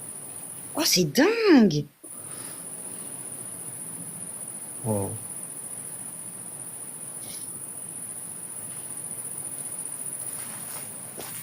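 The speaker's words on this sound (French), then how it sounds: "quand je parle, ils entendent plus les grillons." Crickets chirp steadily through the night as a continuous high trill, with a man's exclamations briefly over them near the start.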